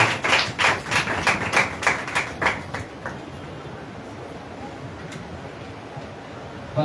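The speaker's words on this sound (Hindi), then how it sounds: "आइए एक जोरदार ताली के द्वारा जो डैनियल का स्वागत करेंगे प्रभु यीशु मसीह के नाम में" A church congregation at a Sunday service claps together to welcome Brother Daniel. The applause is dense and rhythmic for about three seconds, then fades out, leaving a quiet room.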